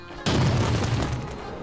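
An elevator explodes in a Minecraft horror map, a sudden loud boom that bursts in after a brief quiet and then rumbles and crackles as it slowly fades.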